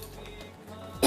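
A single short cough near the end, following a quiet stretch of low background noise.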